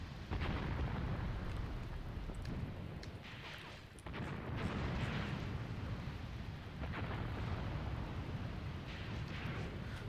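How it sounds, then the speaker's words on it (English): Artillery shelling in the WWII tactics game Graviteam Tactics, set at the Second Battle of Kharkov: continuous heavy rumbling booms and blasts fill the scene, loud and dense, with a brief lull partway through before the barrage resumes. "Germans are also shelling us quite heavily."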